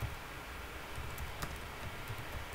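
Typing on a computer keyboard: faint, scattered key clicks at an uneven pace, soft and close, over a steady background hiss.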